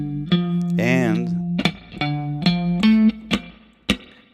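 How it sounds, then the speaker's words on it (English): Spring reverb from an HX Stomp guitar processor on electric guitar: held notes, one with wobbling vibrato, and short plucked stabs, each trailing a splashy decay, close and fairly loud with no talking over it. "this spring reverb is really convincing on my HX Stomp"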